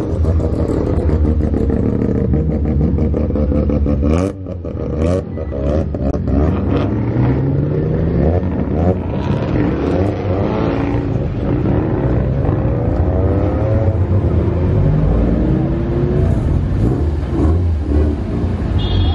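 Yellow Mazda RX-7 on aftermarket wheels revving its engine loudly among passing cars in Times Square, New York, the rasp rising and falling for about twenty seconds alongside other traffic.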